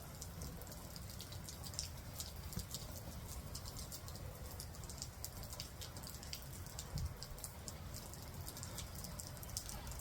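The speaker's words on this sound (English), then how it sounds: "Some good old rain." Rain falls steadily in the Phoenix valley, a continuous soft patter with scattered drips close by. It holds at an even, fairly quiet level with no one talking.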